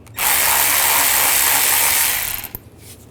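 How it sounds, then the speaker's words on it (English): A power tool spins an 8mm socket to back a screw out of the inner fender well of a 2009-2010 BMW 535i xDrive. It gives one loud, steady whir lasting over two seconds, then a short tail-off and a faint click. "Take this bolt out, or screw out."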